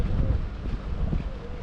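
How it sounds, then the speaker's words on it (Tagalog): Wind picks up over open water while boating off Mindoro, a steady low rumbling buffet of gusts against the microphone with a faint hiss of spray and waves, continuous and fairly loud. "Yan, umpisa ng hangin."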